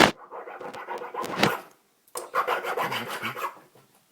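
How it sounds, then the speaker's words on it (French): A hand file rasps across a small cast bronze Buddha statue in an art foundry, two bouts of quick scraping back-and-forth strokes separated by a short pause, close and clear. "je suis en train de limer le petit Bouddha"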